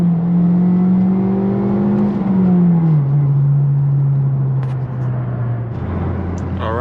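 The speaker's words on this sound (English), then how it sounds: "I'm gonna take it down the road and see how it does." Ford Focus with a freshly repaired clutch driving down the road, engine droning steadily and dropping in pitch through gear changes, close and loud.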